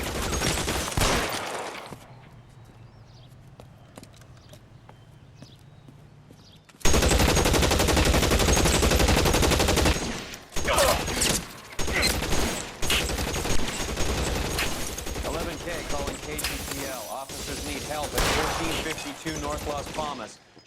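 Heavy gunfire in the L.A. Noire video game, a dense, loud burst of rapid machine-gun shots and rattling volleys after a quieter stretch with a voice, continuing with brief gaps to the end.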